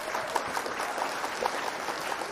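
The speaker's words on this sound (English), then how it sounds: "Omar, can we give him an applause?" Short burst of audience clapping after a livestreamed talk, scattered individual claps rather than a dense roar, moderately close.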